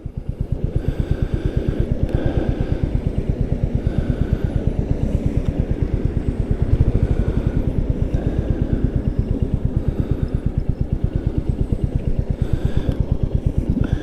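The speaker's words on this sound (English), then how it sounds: "This thing's real quiet. Idle's real smooth." A Royal Enfield Meteor 350 motorcycle engine idles nearby, a smooth, steady, even thumping pulse that holds constant throughout with no talking.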